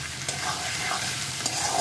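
Carrots, potatoes and other winter vegetables fry for homemade chow mein, a dense close sizzle with quick stirring scrapes across the short stretch.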